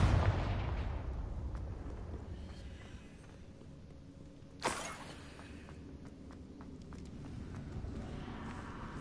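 A Confringo fire spell in Hogwarts Legacy bursts as one sharp, loud explosive blast partway through, then fades back into a steady low rumble of game ambience.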